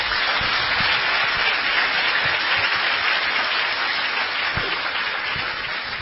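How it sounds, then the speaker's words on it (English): Sustained audience applause after a Buddhist monk's talk, dense steady clapping from a packed room, loud and even throughout with no speech. "Shall we give him a round of applause"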